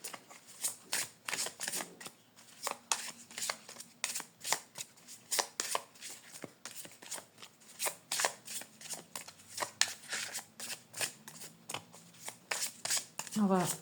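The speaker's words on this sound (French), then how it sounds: "Alors elle se brasse très très bien." A deck of oracle cards is shuffled by hand, producing rapid, close riffling and flicking bursts that repeat throughout, with someone speaking softly at times between the shuffles.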